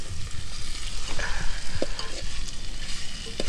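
Food cooking over an outdoor wood fire gives a close, dense sizzle and crackle that runs steadily with small pops throughout.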